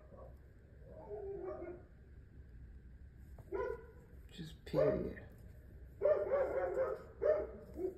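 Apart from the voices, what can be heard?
dogs barking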